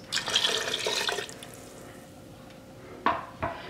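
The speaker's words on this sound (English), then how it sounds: "I'll add in 1 more cup of beef broth, so that's a total of 4 cups." Beef broth poured into an Instant Pot alongside stew meat, onions and potatoes, a close liquid splash and trickle for about a second, then quiet, ending with two short knocks.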